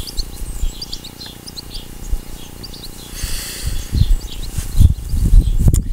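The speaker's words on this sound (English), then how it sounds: "Got a little bird here poking inside out." A small bird chirps in short, faint high calls scattered through steady outdoor ambience, with louder low rustling or handling noise building toward the end.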